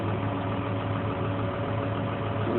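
A car engine idles in a low, even rumble, a steady hum that never rises or falls and stays close throughout with no talking.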